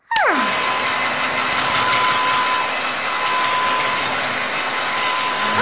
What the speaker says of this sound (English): Yoshi dried her hair with a blow dryer.